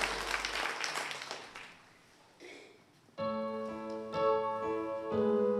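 A church congregation gives a few seconds of applause, bright clapping that thins out and fades before organ-like music swells in.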